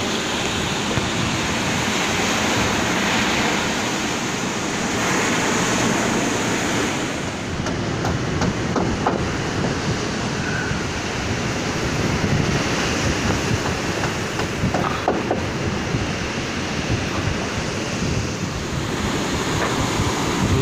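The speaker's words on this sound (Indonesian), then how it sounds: "Begitu indah hempasan laut di bibir pantai." Sea waves breaking on a beach shore where fishing boats sit idle, a continuous loud surf wash with rolling surges and wind buffeting the microphone throughout.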